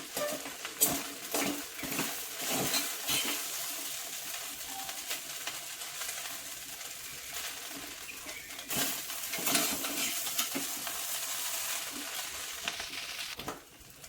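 A spoon stirs soft turmeric poha in a pan, giving steady scraping and light sizzling with occasional metallic clinks, close and moderately quiet throughout, with no talking.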